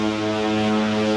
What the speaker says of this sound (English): There goes the foghorn.